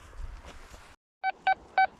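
Quest Q30 metal detector dug with in winter, giving three short, clear electronic beeps in an even rhythm after a brief silence, following a soft rustle.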